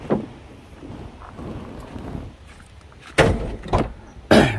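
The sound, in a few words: opening a luxury car's engine hood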